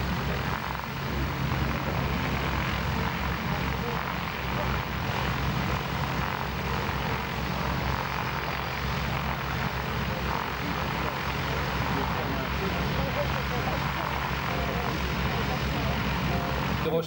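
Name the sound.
T-28 propeller plane landing at an air show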